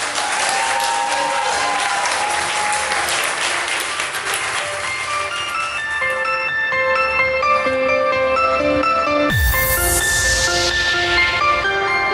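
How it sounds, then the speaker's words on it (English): A large crowd claps steadily and loudly, sustained applause with music playing underneath that shifts near the end. "Let's give them all a big round of applause."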